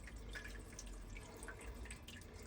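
Tap water runs steadily and quietly into a kitchen sink while dishes are washed by hand, a soft continuous trickle with faint drips and small clinks and no talking.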